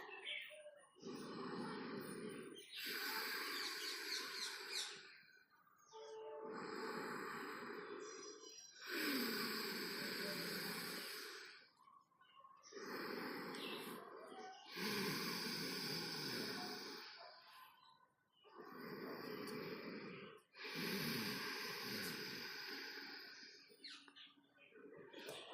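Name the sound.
ujjayi breathing during yoga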